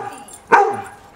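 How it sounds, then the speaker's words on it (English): A dog playing in a backyard lets out one sharp, close bark midway, which fades into a short whine against quiet background noise. "Enough of your barking."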